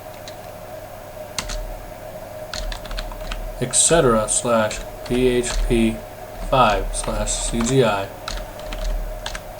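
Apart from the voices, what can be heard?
typing on a computer keyboard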